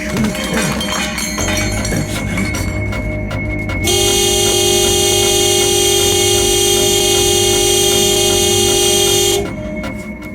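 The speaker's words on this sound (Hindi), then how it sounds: "ऐसे हॉर्न क्यों बजा रहे हो?" A loud car horn blares in one long continuous honk for several seconds, preceded by a noisy mix of traffic and shorter honks.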